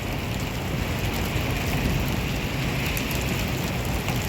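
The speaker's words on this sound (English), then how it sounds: "We're getting a bit of hail." Hail falling steadily outdoors on a farm during a storm, a dense, loud hiss of pelting ice that stays constant throughout with no pauses.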